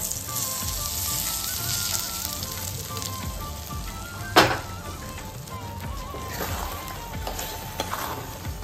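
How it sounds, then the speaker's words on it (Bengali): Garlic tadka for palak chicken sizzles steadily in hot oil in a pan, a continuous crackling hiss with one sharp louder burst midway, no voices over it. "এবার এটা এখানে আবার তড়কা দিয়ে দিচ্ছি"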